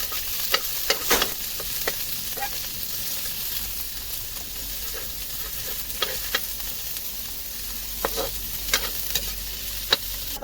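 Meat being stirred in a pan with a little oil for adobo, a soft sizzle beneath repeated scraping and clattering stirs, recorded outdoors by the seaside.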